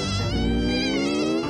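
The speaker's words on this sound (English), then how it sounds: "It's a mosquito!" A mosquito buzzes in a steady, close, high whine that holds for a second and a half in a children's nursery song.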